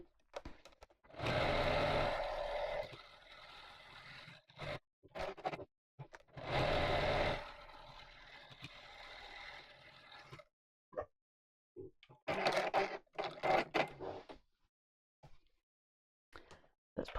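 A sewing machine stitches around the channels of a fabric gift bag panel, running in several distinct bursts with quiet gaps and brief handling noises in between.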